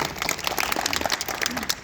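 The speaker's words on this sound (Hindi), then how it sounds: "तो ये भी इनके लिए जोरदार तालियां बजा दीजिए" An audience at a Brahmin association's oath-taking ceremony claps in a short burst of brisk, scattered applause, fairly close and lively.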